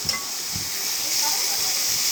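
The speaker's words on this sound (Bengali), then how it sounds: "দিয়ে দেওয়ার পর কিছুক্ষণ নাড়াচাড়া করে আমরা এটা ভেজে নেব।" Soya chunks frying in a pan as they are stirred, a steady broadband hiss and sizzle with faint scraping, continuous and fairly close throughout.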